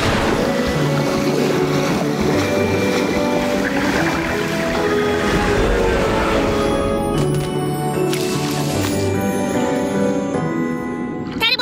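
A boat engine drones steadily in an animated Paw Patrol rescue scene, a loud continuous rumble mixed with tonal effects that thins out near the end.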